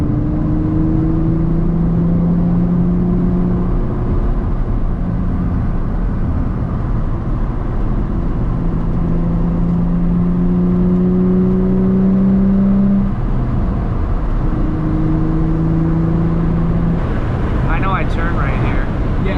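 A stock Nissan 350Z engine drones steadily and loudly while driving twisty roads, its revs held up, rising and falling in long swells, with a rougher burst of engine noise near the end.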